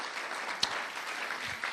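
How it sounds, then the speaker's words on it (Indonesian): A church congregation claps together during a worship service, a soft, distant, continuous wash of applause with a single sharper clap near the start. "Berikan tepuk tangannya buat Tuhan Yesus ya."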